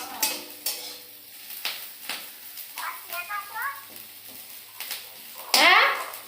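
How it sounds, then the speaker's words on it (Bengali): Onions fry in a wok for dal while a utensil scrapes and stirs them in scattered clinks and knocks, with a faint sizzle underneath and people talking in the background. "এই যে পেঁয়াজটা ভাজা ভাজা হইতেছে"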